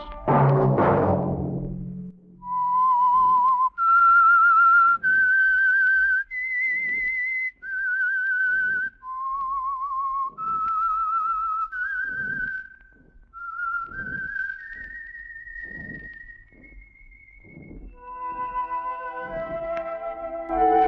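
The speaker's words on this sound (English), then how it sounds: "Let that whistle be your signal" A lone whistled melody, clear and close, moving note by note through a slow, eerie tune after a brief noisy start.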